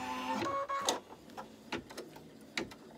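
A home embroidery machine sews an outline stitch on an in-the-hoop bunny design, making a quiet, close series of mechanical whirs and soft ticking stitch pulses at an uneven rhythm.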